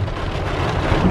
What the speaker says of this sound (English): Started raining heavy again.